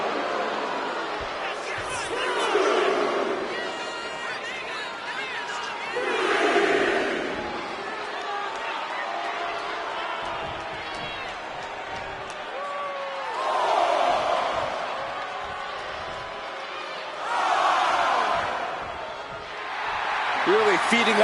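A WWE Monday Night Raw arena crowd cheers for Bronson Reed in waves, with the roar swelling and fading several times beneath steady commentary from announcers.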